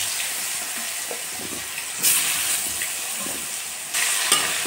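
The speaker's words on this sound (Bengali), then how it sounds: "এখন আমি আলুগুলো ছেড়ে দিব" Potatoes fry in a pan of hot oil with cumin, giving a continuous soft sizzle and two brief louder bursts of hissing as they are stirred, with no voices.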